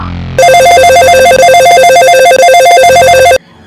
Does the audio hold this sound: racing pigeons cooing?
no